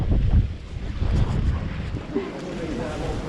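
Outdoor wind in Cardiff, Wales buffets the microphone in steady, rumbling gusts that rise and fall, with faint background voices in the distance.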